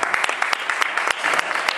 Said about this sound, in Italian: Un applauso per Fiorella.